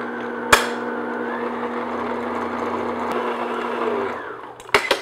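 An electric mixer beats flour mixture into cake batter for a butterscotch pudding cake, giving a steady loud whirring drone that starts and stops with a few clicks and clatters at the ends.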